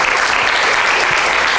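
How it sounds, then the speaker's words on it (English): An audience claps continuously, dense and loud applause filling the room at a school event on empowering students with learning differences. "Can we give them a big round of applause?"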